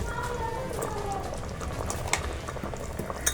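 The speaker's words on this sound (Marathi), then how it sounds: "आता ह्या रशाला चांगली उकळी आलेली आहे" Chicken rassa curry broth at a rolling boil in a pressure cooker, with steady bubbling and popping close by, scattered small splashes standing out over a continuous simmering hiss.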